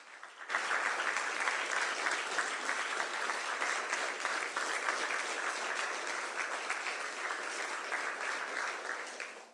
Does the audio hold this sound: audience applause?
yes